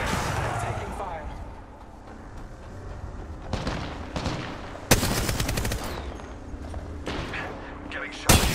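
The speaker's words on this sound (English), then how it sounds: "Taking fire." Gunfire in the battle royale game Apex Legends, with several sharp bursts of shots cutting through a steady background mix, the loudest cracks arriving near the middle and at the very end, while a voice talks over it.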